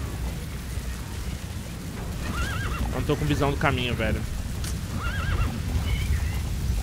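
Horse in Metal Gear Solid V neighing and whinnying with clip-clop hoofbeats, loud and close over a steady rumbling game backdrop while someone talks throughout.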